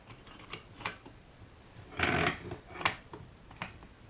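Hand-tightening of a ball joint press on a Dana 44 axle produces a few soft metallic clicks and ratcheting scrapes, with a louder burst of grinding near the middle, close and moderately quiet.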